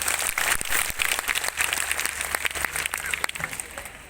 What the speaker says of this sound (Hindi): मैं चाहूंगा एक बार उज्जैनी स्टाइल में आप अपने लिए एक बार जोरदार ताली